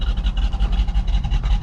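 An old junker car with a cam idles through its stock muffler, a steady low rumbling drone with a slightly uneven lope, close and continuous throughout.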